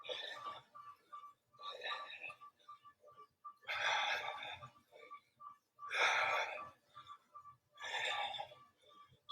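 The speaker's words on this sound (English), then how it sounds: "Don't be afraid to be a loud breather. Let it out. Heavy breathing." Heavy, loud breaths during a workout, a rhythmic series of about five forceful exhales at roughly two-second intervals, heard alone and up close with faint softer breaths in between.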